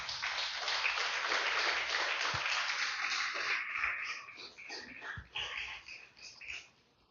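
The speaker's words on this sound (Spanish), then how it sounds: "Déselo fuerte el aplauso" Dense applause from a church congregation fills the opening seconds, then gradually thins and fades toward the end.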